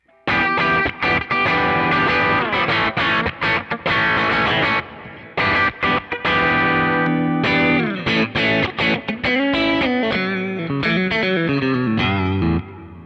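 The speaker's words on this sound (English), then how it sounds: "cleanish but overdriven profile" Overdriven electric guitar through a Kemper amp profile, playing chords and riffs with gritty distortion, loud and close, with brief pauses between phrases.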